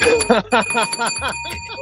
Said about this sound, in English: I just want to hit the bell.